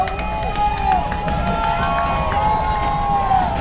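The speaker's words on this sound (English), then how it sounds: "The crowd's coming alive a little bit." A football stadium crowd at a game roars steadily and grows livelier as a drive nears scoring. The noise is sustained and mid-distance, with voices mixed in.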